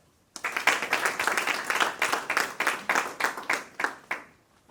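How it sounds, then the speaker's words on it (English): At a women entrepreneurs' graduation in Nakuru, an audience claps for the graduates in a loud, fairly rhythmic burst of hand claps with a pulsing beat, starting suddenly and tapering off after about four seconds. "Can you clap for them?"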